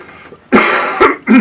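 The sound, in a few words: cough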